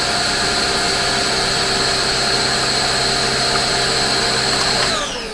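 A battery-powered Rowenta vacuum cleaner runs with a loud, steady whine that holds evenly before winding down near the end, with no talking.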